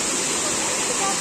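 A waterfall roars in hilly country, a dense and steady rush of falling water that fills the whole moment at full strength, with a voice faintly mixed into the noise.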